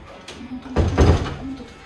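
A door shuts at close range with a dull thump and brief rattle, set in a quiet room with a faint hum before and after.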